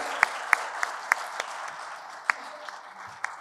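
Applause for nominees at an award ceremony for a human rights short film competition: steady clapping from a hall audience, with a few sharp, close, loud claps standing out.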